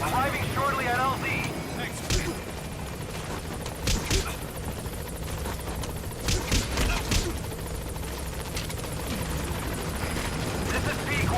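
Helicopter landing at a landing zone in Metal Gear Solid V: The Phantom Pain, a steady rotor drone filling the scene throughout, with scattered sharp bursts and a voice talking over it.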